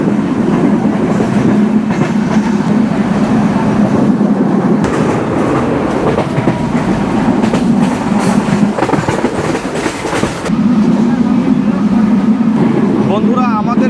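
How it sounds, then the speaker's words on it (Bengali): The Ekota Express passenger train runs at about 88 km/h with a loud, steady rumble and rhythmic clickety-clack from inside the carriage. It holds a constant drone throughout, with a brief rattling surge near the end. "বন্ধুরা, আমাদের ট্রেনটি এখন 88 স্পিডে চলতেছে"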